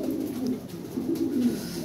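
Yellow female Lahori Siraji pigeon cooing up close, soft low throaty coos repeating in a steady run with no talk.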